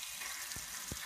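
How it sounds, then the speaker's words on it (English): Cold water spits and sputters from a faucet with its aerator removed while air purges from the lines: a steady close hiss of flow broken by two brief low bursts, with no voices. "spitting out cold water, just trying to burp the lines, get all the air out"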